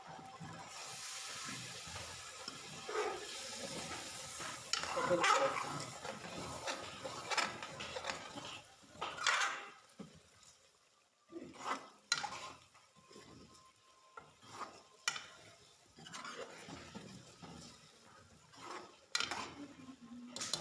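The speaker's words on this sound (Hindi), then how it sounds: "एक दफ़ा मसालों की अच्छी तरह भुनाई कर लेते हैं।" Spices for chicken kaleji sizzle in a pan as they are roasted and stirred, giving a steady hiss through the first half, then scattered scraping and clinking stirring knocks.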